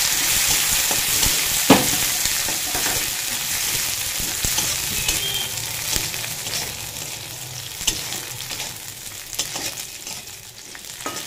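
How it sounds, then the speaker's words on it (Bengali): Cardamom, cinnamon and cloves fry in hot ghee with a steady, close sizzle, while a spoon stirring the pan adds occasional scrapes and clicks. No one speaks. "এবার এলাচ, দারচিনি, লবঙ্গ ঘির মধ্যে দিয়ে দিলাম।"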